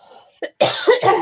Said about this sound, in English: Sorry, I'm going to cough.